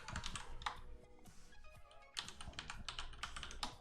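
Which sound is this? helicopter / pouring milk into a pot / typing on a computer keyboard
typing on a computer keyboard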